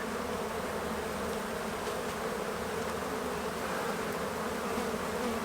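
Honey bees buzz in a dense, continuous drone during an April hive inspection in Minnesota, close and steady throughout, with no talk.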